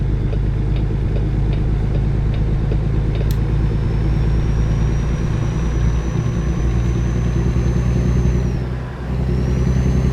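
A Peterbilt truck engine in American Truck Simulator drones steadily and loudly throughout with the windows down, a deep constant rumble with a faint whine above it, no speech.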